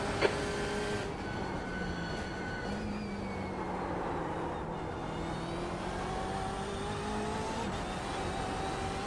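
Porsche race cars in the iRacing simulator at Mount Panorama drone and shift through gears, engine pitch climbing and falling steadily as one car runs close with others nearby.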